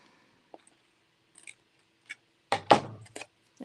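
Scissors snip through paper during a crafting session, a few sharp, isolated cuts spaced apart and then a denser cluster of close, crisp snips near the end, with no talk.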